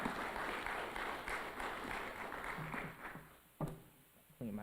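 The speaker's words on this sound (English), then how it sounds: "Let's give both of them another round of applause" An audience claps at an NPHC plot dedication at the University of Louisville. The applause is a dense patter that gradually fades, and then a speaker talks with a few stray taps.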